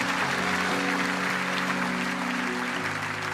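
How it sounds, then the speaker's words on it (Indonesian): Applause from a church congregation at a worship service, a steady, dense wash of clapping that carries through the whole moment, with a faint sustained musical tone underneath and no talking over it. "Kasih tepuk tangan dulu paling luar biasa buat Tuhan."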